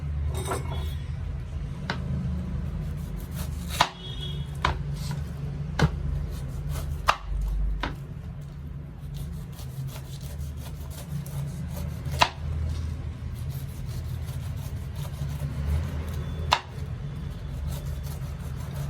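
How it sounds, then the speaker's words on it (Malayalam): A knife chops a pineapple on a board in scattered, sharp cuts with irregular gaps, set against a low, steady background hum. "ഈ സമയം കൊണ്ട് പൈനാപ്പിൾ ഒന്ന് കട്ട് ചെയ്തെടുക്കാം"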